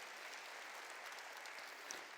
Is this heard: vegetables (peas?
no